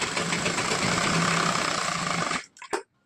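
An electric sewing machine stitches blouse fabric, running steadily with a loud, close mechanical whir and rapid needle chatter for over two seconds, then stopping, followed by a couple of brief clicks and near silence.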